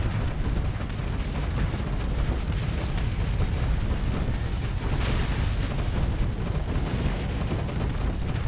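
Heavy, continuous booming and rumbling gunfire from a main cannon in a video game, a loud dense barrage of blasts filling the whole stretch with no talk over it.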